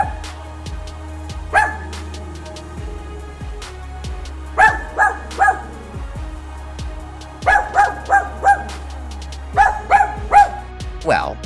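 A dog barks in short bursts, clustered in bouncy groups of three or four yips with pauses between, loud and close, in a lively indoor setting.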